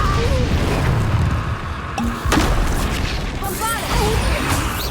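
Spell-casting in Hogwarts Legacy, with the Incendio fire spell erupting in a dense, roaring blast over constant game noise and a couple of sharp bangs and cracks.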